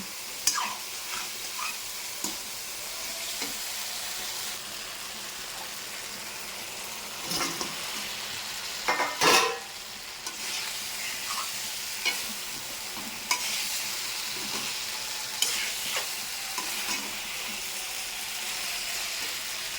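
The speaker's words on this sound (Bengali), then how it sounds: "এবার দিয়ে দেবো চিকেন ভেজে রাখা চিকেনগুলো পকোড়াগুলো" Fried chicken pakoras go into a hot, sizzling pan with a steady frying hiss, broken by a few louder bursts and scraping stirs of a spoon, close up and with no talking.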